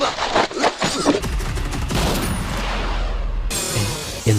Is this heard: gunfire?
yes